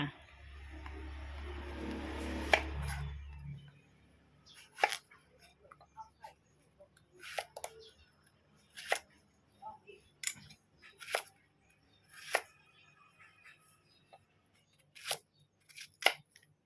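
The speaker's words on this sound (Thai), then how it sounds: "หั่นขนาดตามที่เราต้องการนะคะ" Knife chopping a young melon on a board: a series of sharp, irregular taps and cuts, close and clear, after a brief low rumble.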